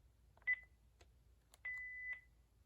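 Short electronic beeps from the buttons of a mid-2000s Panasonic cordless phone being cleared of entries, with two tones sustained briefly, heard alone against quiet room hum.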